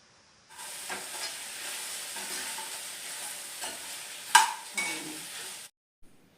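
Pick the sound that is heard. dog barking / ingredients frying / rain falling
ingredients frying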